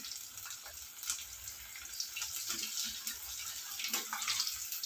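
Fish frying in hot oil on a stove over medium heat for a crispy fish fry, giving a steady close-up sizzle and crackle with spattering pops and no talking.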